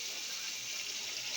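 Kewra water poured into a dish while cooking, a steady bright, splashing trickle of liquid, continuous and even for the whole moment, close and with no talk.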